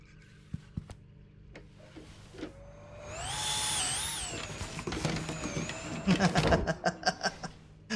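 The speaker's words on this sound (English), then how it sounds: "Of course, in England, they'd call it a Hoover." A vacuum cleaner in a video game whines up with a rising, pitch-shifting drone for about two seconds, then gives way to clattering rhythmic bursts, with faint chuckling and movement before it.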